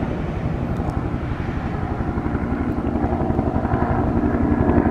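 News helicopters circling overhead during the El Dorado wildfire in Yucaipa, California: a steady, dense rotor and engine drone that grows slightly louder across the clip, with no talk.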